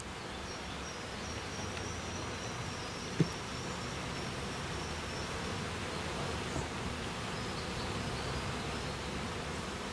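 Honey bees hum steadily around an opened beehive during a hive manipulation, a dense, even buzz that stays constant throughout, with one sharp click partway through.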